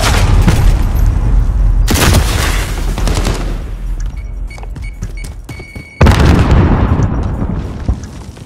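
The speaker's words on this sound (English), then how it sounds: "Bomb set. Hold for detonation." A bomb detonates in a Modern Warfare Search and Destroy match, loud booming blasts and rumbling bursts mixed with gunfire, a brief lull with electronic beeps, then another sharp heavy explosion.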